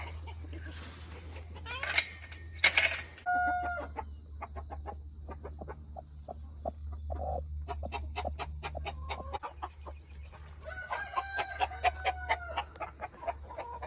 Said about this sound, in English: There's some more of our chickens around here.